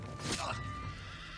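A horse in the video game Ghost of Tsushima gives a short, sharp neigh over a low game soundscape, with a player's voice talking around it.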